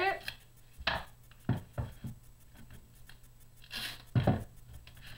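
Duct tape being cut to length with an X-Acto knife for a craft gingerbread house, heard as several short, scattered crisp cuts and scrapes close by.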